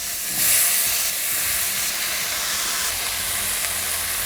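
Brinjal added to hot oil with curry leaves, asafoetida and reddened chana dal, giving a loud, steady hiss and sizzle that swells at the moment it hits the pan, then settles into continuous frying.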